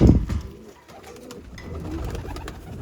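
Several pigeons coo nearby, soft guttural rolling calls overlapping in a steady murmur, with a brief rustle at the start.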